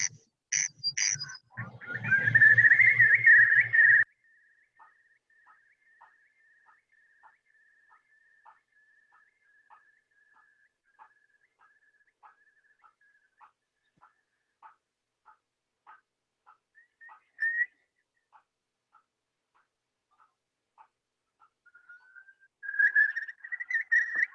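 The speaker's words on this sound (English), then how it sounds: "I just said I'd leave the curlew speak for itself there" A curlew calls across an Irish agricultural landscape: a loud opening whistle, then a long, faint series of evenly pulsed bubbling notes. Rising whistled calls return near the end, with no voices.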